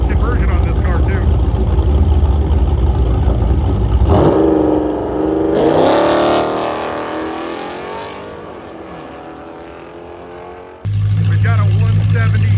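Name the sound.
modified Dodge Hellcat and Scat Pack engines at drag race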